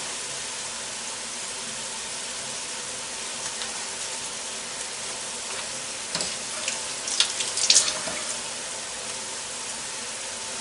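Steady, soft sizzling from a hot pan as water boils off, a continuous hiss with a few sharper crackles and pops near the end.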